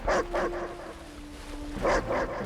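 Attack dog in Command and Conquer: Red Alert 3 barking in two short bursts of two barks each, separated by a steady tone, moderately loud against game ambience.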